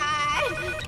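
A telephone rings in the Japanese dub of the Aqua Teen Hunger Force cartoon film: a short, bright, tonal electronic ring lasting under a second, fairly loud and close, with a slight pitch bend partway through.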